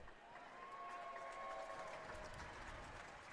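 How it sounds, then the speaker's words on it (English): Baseball crowd at a Pioneers vs Red Wings game applauding as a ball goes into the stands, a soft, distant wash of clapping and murmur over stadium ambience, fairly faint throughout. "So a round of applause as that ball went into the stands."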